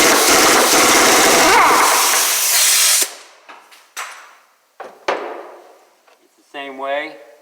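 A bolt is removed from the front spindle of a 1968 Ford Mustang: a loud, close burst of power-tool noise for about three seconds, then a few sharp metallic clanks and taps, and a short voice near the end.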